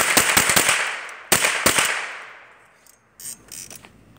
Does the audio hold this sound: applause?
no